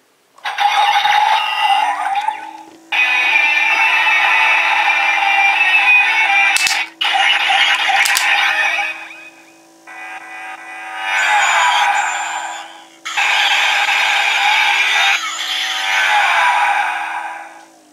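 A Kamen Rider Drive DX Shift Tridoron toy plays electronic shift-up effects, loud bursts of synthesized engine revving and tire screeches in separate blocks with short pauses between them.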